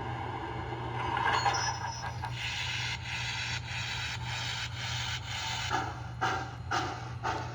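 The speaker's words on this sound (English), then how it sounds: "we can compare these chuffs to the Mohawk chuff" Heavy, breathy chuffs from an MTH Protosound 3.0 model steam locomotive, coming in a slower, uneven rhythm over a steady mechanical hum.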